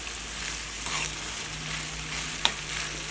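A tablespoon of soy sauce stirred into food frying in a pan: a steady, close sizzle with a soft stirring rustle and one sharp utensil click near the end.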